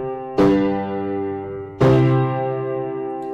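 A perfect authentic cadence: two full, sustained chords struck one after the other, the second resolving and ringing on alone.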